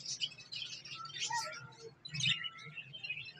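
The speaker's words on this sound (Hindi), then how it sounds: "इसके साथ एक और कॉकटेल है। हाँ जी, ये भी कॉकटेल है, ये भी ब्रीडर पेयर है जी।" Cockatiels at a newly opened bird market shop in Vehari, chirping and calling in a busy overlapping chatter throughout, moderately loud over a low background hum.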